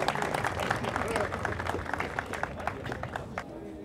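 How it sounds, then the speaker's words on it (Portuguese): Steady applause from a crowd at a book launch, dense clapping filling the whole stretch at an even level, with scattered louder claps standing out. "Uma salva de palmas para o nosso ator Bonifácio Lima."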